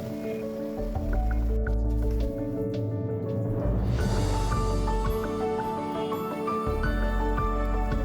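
Freshly planted bonsai seeds being watered: close, soft squishing and dripping of water soaking into soil, with a steady trickle broken by brief pauses and no voices.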